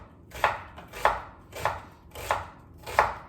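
A knife slicing a red onion thin on a cutting board, five crisp, evenly spaced chops heard close and alone, each with a short sharp attack.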